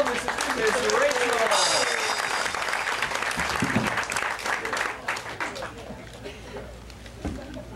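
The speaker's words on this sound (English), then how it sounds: "How about a round of applause" A theatre audience breaks into a round of applause, loud, dense clapping that swells and then thins out, mixed with crowd noise and a voice speaking over it.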